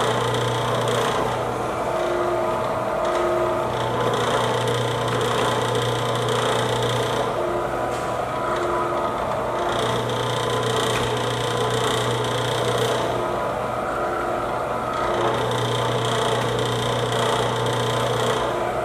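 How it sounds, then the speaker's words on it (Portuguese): A pasta machine works wine-flavoured gourmet pasta dough with a steady mechanical hum and whir, the drone rising and dipping in a repeating cycle, close and continuous, with no voices. "na máquina fica mais fácil esse processo de homogeneizar a massa"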